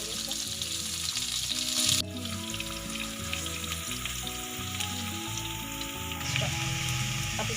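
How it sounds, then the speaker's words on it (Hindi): Sliced onion shallow-fries gently in a pan, giving a dense continuous sizzle and crackle that stays close and steady throughout, with one brief stir or shift and no talking. "स्लाइस किया हुआ प्याज डालेंगे, नरम में फ्राई करेंगे, इसको ब्राउन नहीं करेंगे"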